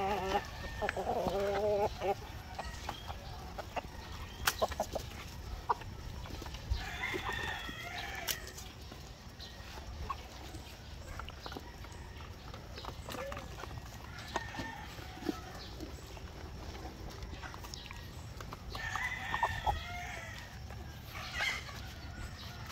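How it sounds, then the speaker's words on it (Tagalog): Several free-range farm chickens cluck and squawk in scattered bursts, some close and some farther off, amid steady outdoor noise and occasional knocks. "So ito yung manok natin dito sa free range mga ka-farmers."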